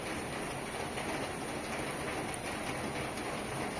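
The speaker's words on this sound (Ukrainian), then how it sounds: "Ой, який гарний дощик." Steady, even rain hisses throughout, a dense patter with no pauses and no voices.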